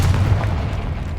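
The Confringo fire spell explodes in Hogwarts Legacy inside a decaying catacomb, a loud, deep boom with a heavy low rumble that fades out over about a second.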